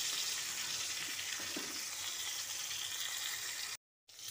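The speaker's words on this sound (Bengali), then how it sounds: "পটলগুলো আমার লাল লাল করে ভাজা হয়ে গেছে।" Pointed gourd pieces frying in oil give a soft, steady sizzling hiss, fairly faint and unbroken, cutting out abruptly just before the end.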